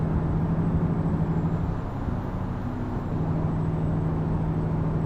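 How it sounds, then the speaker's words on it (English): Steady engine drone from a passing Subaru car in American Truck Simulator, a continuous mid-loud hum with a faint tonal whine, heard alone with no talk. "Oh, Subaru, you're back. How I missed your sounds."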